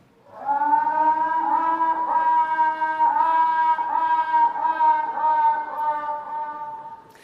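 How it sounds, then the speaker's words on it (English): A honeybee queen's piping: a sustained, reedy tone with rich overtones and slight pulsing, holding steady for several seconds before fading. "Now, listen to this honeybee queen."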